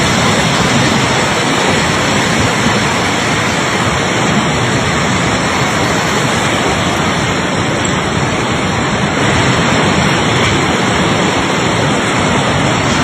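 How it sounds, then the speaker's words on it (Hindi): Fast-flowing floodwater rushing through Nepal, a loud, continuous broadband roar with steady churning surf-like texture throughout, no voices. "कितनी तेज रफ्तार से पानी का बहाव जो है वो नेपाल को अपनी आगोश में ले रहा है"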